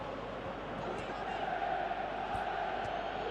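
Stadium crowd in a football video game, a steady roaring murmur of spectators that swells slightly midway and holds throughout, with faint commentary-like voices blended in.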